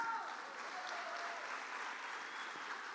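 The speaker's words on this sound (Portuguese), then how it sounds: "Dê um aplauso a Jesus." Applause from a church congregation during a Sunday evening family service, a steady wash of clapping at moderate distance, fairly faint, with no speech over it.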